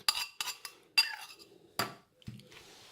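Yogurt stirred into fruit chaat in a bowl, a handful of sharp spoon clinks and scrapes against the dish, close and distinct, spaced unevenly with quiet between.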